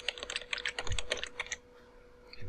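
Rapid keystrokes clatter on a computer keyboard for about a second and a half, close and crisp, then stop, leaving a quiet room hum.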